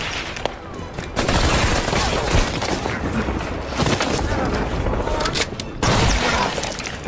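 A special forces hostage-rescue battle in a war film erupts in dense, loud gunfire, with continuous rapid bursts and booming shots filling the scene almost without pause.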